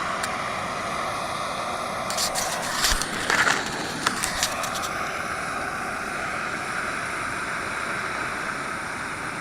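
Liquid poured into a pot at a backcountry camp on a Yosemite backpacking loop, a steady rushing wash with a cluster of small clinks and splashes in the middle, heard close by and alone.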